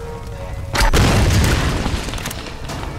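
A deep, loud explosion booms in the video game Tomb Raider, bursting suddenly and rolling off into a rumbling decay, heard alone.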